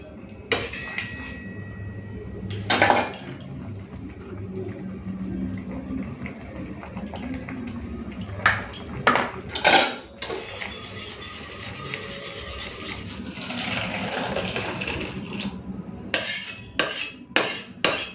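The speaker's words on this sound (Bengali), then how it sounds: "কড়াইটা ভালো করে ধুয়ে নিই" A kadai (wok) gets scrubbed and rinsed in a home kitchen, with irregular metallic clanks and knocks, running water and clinking of utensils over about eighteen seconds, and brief sharp bangs near the end.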